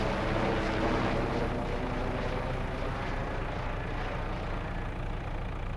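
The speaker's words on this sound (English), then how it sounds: "Helicopter." A helicopter in Farming Simulator 22 on PS5 gives a steady, loud engine and rotor drone that holds without a break.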